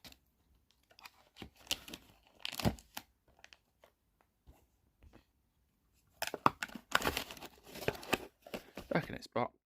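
A small item is slid back into its thin plastic wrapper bag, giving bursts of crinkling and rustling, one brief cluster early on and a longer busy stretch near the end, with quiet gaps between.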